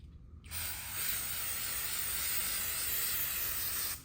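Stoner's tar and sap remover sprayed from an aerosol can onto old clear bra glue on a car, one steady close hiss lasting about three and a half seconds before cutting off.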